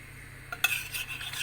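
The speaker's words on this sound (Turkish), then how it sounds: "Karıştırıyorum." A spoon stirs gluten-free flour and a cracked egg into a béchamel sauce in a pan, giving a short scraping burst with light clinks, close and fairly quiet, with no voices.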